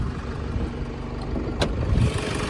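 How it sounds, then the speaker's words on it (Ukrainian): A 2010 Honda CR-V 2.2 diesel engine idles steadily with a low, even rumble, joined by a brief sharp click partway through. "Під капотом мотор працює ідеально, нічого не шародить"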